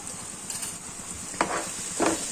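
Green pigeon pea curry sizzles in a pan as it is stirred and sautéed, a soft steady frying hiss with a few short spoon scrapes and knocks.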